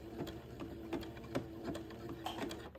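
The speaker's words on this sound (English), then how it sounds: "I'm just going to zigzag a couple of stitches" A domestic sewing machine zigzag-stitches a few stitches into baby garment fabric, giving a quiet, steady run of rhythmic needle thumps, roughly three per second, close by with no talk.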